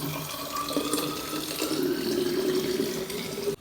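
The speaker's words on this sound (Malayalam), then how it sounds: "ഒന്നുകൂടെ വെള്ളം മാറ്റട്ടെ" Water running steadily from a tap into a bottle being refilled, a continuous close pouring stream with a rising pitch as the bottle fills, ending abruptly.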